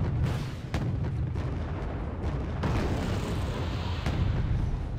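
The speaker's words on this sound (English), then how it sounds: "A very good salvo." An artillery salvo in the video game Wargame Red Dragon, a dense rumbling barrage of booms with several sharp blasts over a continuous low roar, heard without talk.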